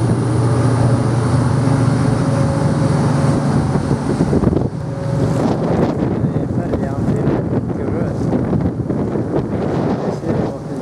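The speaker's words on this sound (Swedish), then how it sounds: "som vi ser nu så är vi på färjan på väg till Öckerö" Steady wind roar buffets the microphone on the open deck of a ferry heading to Öckerö, with a low engine drone underneath and faint talk mixed in throughout.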